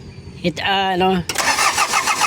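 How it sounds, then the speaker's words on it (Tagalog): A car engine cranks for a long stretch before catching and firing into a running idle, heard close and loud in a workshop during maintenance, with a suspected faulty glow plug. "So mahaba, napakahaba yung kanyang cranking."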